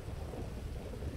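Steady heavy rain with a deep rumble of thunder in the game GTA V, a dense, continuous wash of rainfall filling the scene with low rolling thunder underneath, no voices present.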